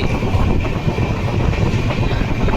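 Loud, continuous rumble and rattle of a train rolling along the tracks through farmland in Karnataka, heard from inside or very near, with steady rhythmic clatter.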